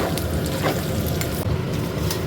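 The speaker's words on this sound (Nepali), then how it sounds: "किसमिस पनि हालेर चाहिँ चलाउँछु। किसमिस पनि अलिक फ्राई हुनुपर्छ" Raisins fry in a hot pan for poha, a busy crackling sizzle with occasional scraping stirs, fairly close and steady throughout.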